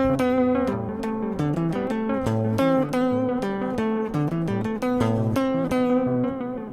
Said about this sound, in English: So that same riff on the same exact preset, just moving the activity knob, sounds like this.